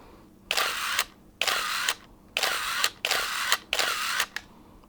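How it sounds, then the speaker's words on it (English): A Canon AL1 camera's power winder whirs close by in five quick mechanical bursts, each about half a second long, with short pauses between them. "I also managed to get the power winder for the Canon AL1"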